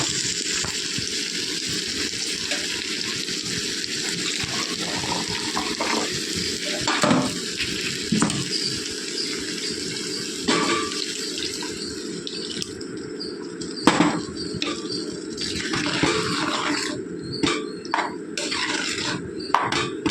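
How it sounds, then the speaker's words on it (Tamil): Continuous bubbling and simmering from a covered pot of curry, with soft irregular pops and gurgles throughout, fairly close and steady, no voices. "இப்போ நல்லா கொதிக்கட்டும்"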